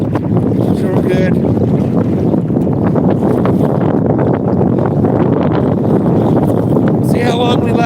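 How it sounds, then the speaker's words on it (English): Strong wind buffets the microphone in a constant low roar while paddling an outrigger canoe against the current, with water sounds and occasional brief squeaks on top. "I didn't think it was going to be this windy."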